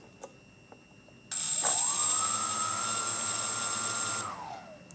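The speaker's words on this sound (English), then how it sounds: "I will start the motors" Motors of a Flying3D X6 hexacopter drone spin up with a sudden loud onset, then a steady rising electric whine that holds for a few seconds before winding down, with no talking.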